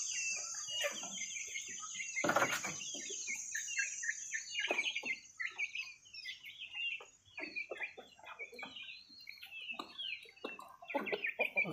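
Pakhoy roosters and other chickens let out of their coop into the open, with repeated clucks, chirps and calls scattered throughout, fairly close, plus a brief louder burst early on and a steady high background hiss.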